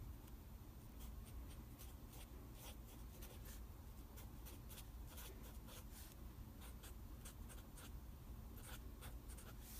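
Chalk or marker writing on a board in a math lecture: faint, rapid scratchy strokes come in bursts of taps and scrapes over a low room hum, with no talk.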